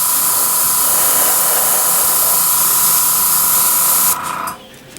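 An airbrush hisses steadily, close and loud, as paint goes onto a model starship build. The spray cuts off near the end, leaving a quieter background.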